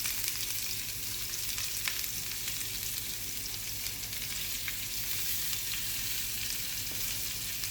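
Thinly sliced onions sautéing in a pan, a steady soft sizzle and crackle throughout with occasional faint stirring scrapes.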